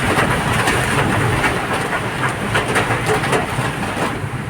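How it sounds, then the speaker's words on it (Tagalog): A loud, steady heavy downpour in Antipolo roars without letup, deep and rumbling underneath the hiss, close and enveloping. "Lakas talaga ulan."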